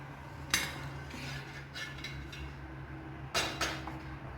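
A metal pan is set onto a gas stove to heat for chapati, giving a few sharp close clanks and clinks against a low steady hum.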